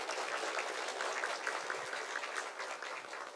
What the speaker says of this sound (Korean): 오늘 먼 걸음 해주신 우리 유정복 회장님께 다시 한번 큰 박수 부탁드리겠습니다.